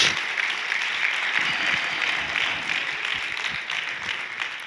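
Church congregation applauding during a pastor's sermon, a steady, dense wash of clapping that holds evenly throughout with no voices over it.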